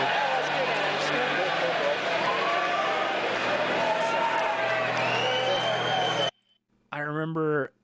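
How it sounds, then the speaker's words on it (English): At a concert, a large crowd roars and cheers in a continuous loud wash for about six seconds. It cuts to a short silence, then someone speaks briefly. "you can just listen to the crowd"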